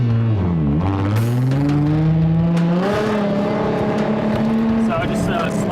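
A car driving a slalom drift course, engine droning loud and close as it rises and falls in pitch through the turns, with a voice speaking over it.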